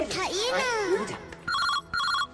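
A telephone rings in two repeated electronic bursts, following a child's high, sing-song voice at the start.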